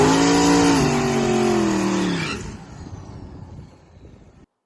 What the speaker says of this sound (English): do a really good burnout